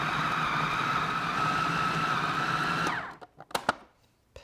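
Food processor mincing chorizo to a ground-beef texture: a steady, loud motor whir with chopping blades that runs alone for about three seconds, then cuts off, leaving a few short clicks and knocks.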